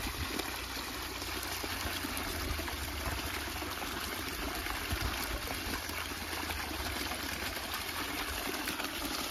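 Farm water running in a steady stream for washing freshly picked cucumbers, a continuous faint rushing flow without pauses.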